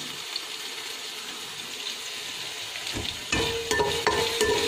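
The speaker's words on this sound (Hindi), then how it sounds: "2 सेकंड के लिए हम लोग इसको भी भून लेते हैं।" Curry leaves and fenugreek seeds frying in hot oil for kadhi, a steady close sizzle that grows louder and crackles more sharply in the last second and a half.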